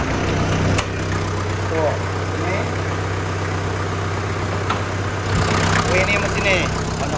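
A 1996 Toyota Taft Rocky 4x4 diesel engine idles steadily and loudly nearby, a constant low rumble running throughout while someone talks over it.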